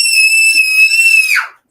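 A small boy born in 2019 lets out one loud, sustained high-pitched scream in a temper tantrum, held steady for over a second before breaking off abruptly into silence.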